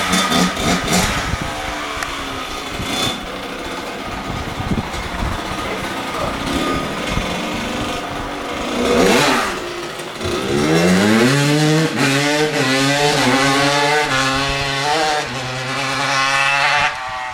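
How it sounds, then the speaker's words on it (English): A dirt bike engine revving hard, a loud raspy buzz that climbs and falls in repeated rising pitch sweeps, heard close with a rough, gritty texture throughout. "he was on his dirt bikes doing things like this"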